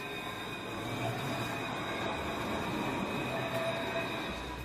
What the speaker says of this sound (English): Luas, Dublin's modern urban tram system, provides a link from the city's outer suburbs into its centre.